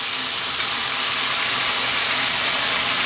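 Ketchup sizzles in a hot pan with fried garlic and sauces, a dense, close frying hiss holding steady across the whole moment with no talking.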